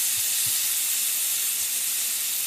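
Beef simmering in a pot for a split pea soup gives off a steady, even hiss of steam and gentle bubbling, with no break and no voices.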